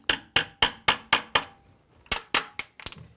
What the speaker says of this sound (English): we're going to tap these straps in so that they conform to the cement without putting any stress on the window